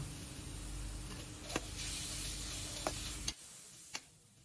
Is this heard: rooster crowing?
no